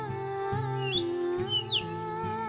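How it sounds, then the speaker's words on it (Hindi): A few high, thin chirps from a baby bird rise and fall over a steady musical background, short tweets spaced apart. "वो चिड़िया का बच्चा भोलू कबूतर को आवाज लगाता है।"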